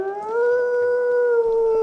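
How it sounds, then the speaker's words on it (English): Wolves in the video game WolfQuest howl in a long, sustained, steady call with rising pitch at the start, loud and clear, with no talk over it. "I hear lots of howling"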